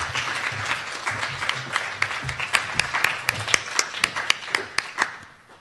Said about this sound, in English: So another round of applause for all of our performers, please.